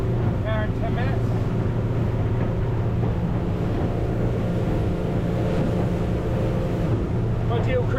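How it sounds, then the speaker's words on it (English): A fishing boat cruises steadily with a Yamaha 300 outboard engine around 3400 RPM, a constant low droning hum with wind and water rush, and faint speech in the background. "Ideal cruising speed, 3400 RPM. That's where I get the best fuel economy in the Yamaha 300."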